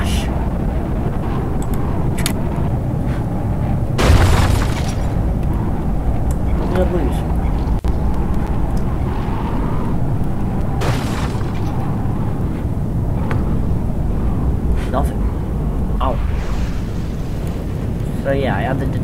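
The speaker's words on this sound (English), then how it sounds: "Where you can watch the glorious missiles and the crash." Missiles and crashing airships explode in a video game, heard as scattered booms and one loud burst among a constant rumbling drone, with someone talking over the action.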